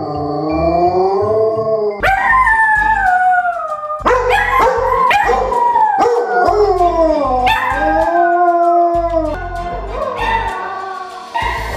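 Dog howling close and loud: a series of drawn-out, wavering howls with short yelps between them, rising and falling in pitch across the whole clip with no talk.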